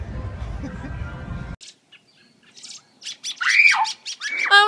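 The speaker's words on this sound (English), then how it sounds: "I almost just got killed by a bird." A bird squawks and chirps in a series of sharp, shrill calls during an attack, loud and close, following a burst of noisy background rumble that cuts off abruptly.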